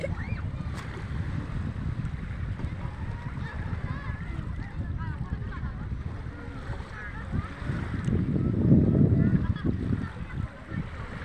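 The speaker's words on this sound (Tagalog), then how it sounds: "Paparinig ko sa iyo yung hampas ng alon." Waves surge and break on a seashore where children are swimming, a steady near roar that swells louder toward the end, with faint voices and a honk-like call in the background.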